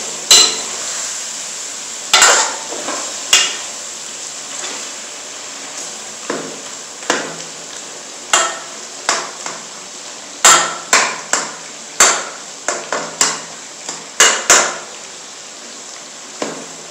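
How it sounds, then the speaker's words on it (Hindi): Softened tomatoes for chicken charsi karahi are mashed in a metal pot, a spoon clanking sharply against the pot in irregular, close knocks and scrapes with short gaps, sometimes in quick bursts. "अब हम जो गले हुए टमाटर इनको मैश कर देंगे।"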